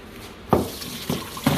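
Water from boiled diced russet potatoes splashes out in a few short bursts as the pot is drained, loud and close, with brief pauses between pours.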